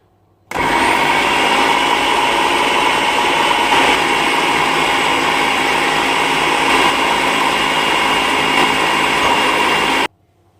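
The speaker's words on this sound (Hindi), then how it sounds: "अब यहाँ मैं कीमे को प्याज, अदरक और लहसुन के साथ 2 से 3 मिनट के लिए फूड प्रोसेसर में अच्छे से मिक्स करूँगी" A food processor whirs steadily for about ten seconds, mixing minced meat with onion, ginger and garlic, then stops abruptly. The motor noise is loud and close and there is no talk over it.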